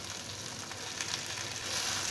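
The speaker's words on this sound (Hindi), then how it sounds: "हमारी प्याज भून गई है" Onion, boiled peas and potato frying in oil in a pan for poha, a soft continuous sizzle with faint crackling and no voices.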